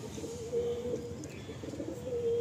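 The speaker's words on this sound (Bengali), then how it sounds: "একদম ছোট্ট পায়রা" Small pigeons cooing in a loft, a low steady murmuring coo with brief rising notes under a busy hum of other birds, close and moderate in level, with no talk.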